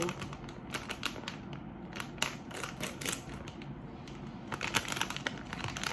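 Zip-lock bag of Thai-style pork jerky sheets being opened up close, giving a run of quiet crinkly plastic rustles and small clicks, irregular and fairly faint, with no voices.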